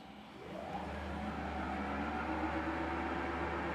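A Schaublin lathe spindle starting up at 500 RPM, its motor hum rising from quiet within the first half second into a steady, even whine with a low electrical drone, close and alone without talk.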